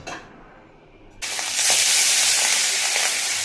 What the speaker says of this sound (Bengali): ইলিশ মাছ ভাজা হয়ে যাচ্ছে।